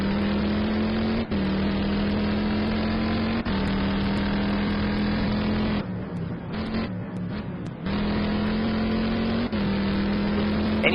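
Race cars at the Fuji ten-hour endurance race, a Corvette among them, roar steadily and loudly with a sustained engine drone, briefly dipping and returning, heard without talk.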